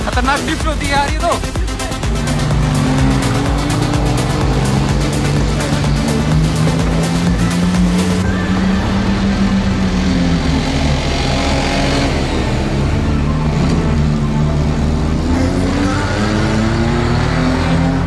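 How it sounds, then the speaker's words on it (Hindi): A drifting car's engine revs hard and holds a loud, continuous roar with shifting pitch, heard up close from inside the car with voices talking over it. "खतरनाक ड्रिफ्ट होती है यार ये तो।"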